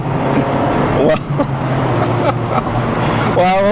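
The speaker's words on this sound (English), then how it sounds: "Time to stop driving it like a van and like a proper sports car." Mazda MX-5 Miata sports car driven hard, a loud, steady engine and road roar from inside the cabin with a few sharp transient bursts, and a voice speaking over it.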